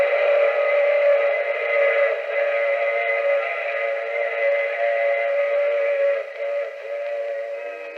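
A steam train whistle blows in a long, sustained chord inside a radio drama, steady and loud for about eight seconds before dipping slightly near the end, with no voices over it.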